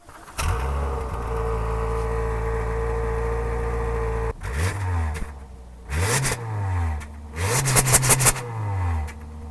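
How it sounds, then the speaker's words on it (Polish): A Subaru Forester with a combustion engine and an exhaust that exits straight out idles steadily and close, then gets several sharp revs that climb and fall back in quick succession. "jest to samochód spalinowy, a sam wydech brzmi tak."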